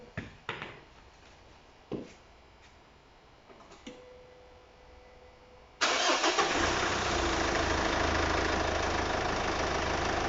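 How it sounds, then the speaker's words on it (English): A Mitsubishi L200 DI-D diesel engine fires up after a few clicks and a short cranking whir, then settles into a loud, steady diesel idle at close range. "So now I'm going to start the vehicle up"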